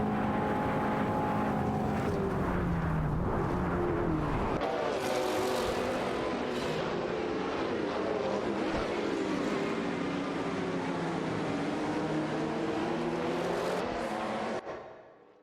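Video game race between a Lamborghini Diablo KTR and an Oldsmobile Cutlass: loud, continuous engine roar with rising and falling revs and gear shifts, sustained throughout before fading at the end.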